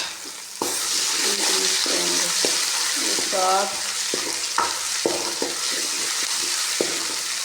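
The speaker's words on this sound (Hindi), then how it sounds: "अब इसमें डालूंगी अदरक लहसुन का पेस्ट" Onions with ginger-garlic paste fry in a pan for an aloo baingan sabzi, giving a constant loud sizzle with spoon scrapes and taps. A voice speaks briefly over the cooking.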